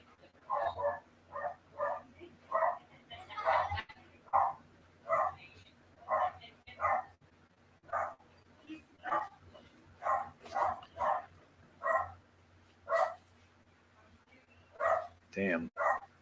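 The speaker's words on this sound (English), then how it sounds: "My dogs are noisy." Dogs barking indoors, a long run of sharp repeated barks and yips in uneven bursts, fairly close and loud, with a faint hum beneath.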